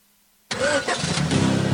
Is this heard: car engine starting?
yes